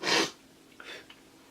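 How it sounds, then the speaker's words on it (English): A single sharp, breathy sneeze bursts out close up at the start, followed by a couple of soft sniffs and breaths in a quiet room. "just sneezed there"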